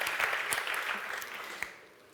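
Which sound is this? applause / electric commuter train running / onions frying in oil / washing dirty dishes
applause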